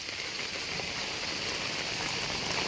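Heavy monsoon rain pours steadily over flooded paddy fields in Kozhikode, a dense, even hiss that fills the whole moment with no voices.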